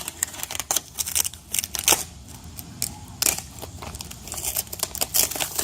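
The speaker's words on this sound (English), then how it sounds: "break the plastic." Plastic packaging around a Tanks Inc PA-4 in-tank fuel pump being broken and torn open, with a close series of sharp cracks, crinkles and snaps in an irregular rhythm.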